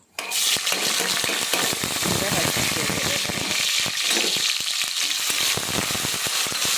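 Whole spices for biryani (cinnamon, cloves, cardamom, nutmeg and mace) fry in hot oil with a loud, dense, continuous sizzle and crackle close by, lasting throughout with no talk.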